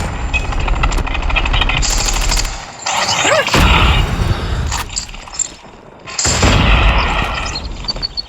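Shotgun fire in Call of Duty Mobile, loud booming blasts amid dense, chaotic battle noise from several weapons, close and heavy.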